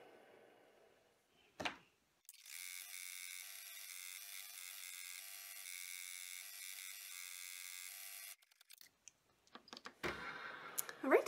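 Embroidery machine stitching a placement outline for an in-the-hoop two-pocket wallet, a steady close buzzing whir lasting several seconds between brief clicks, then stopping with short mechanical taps.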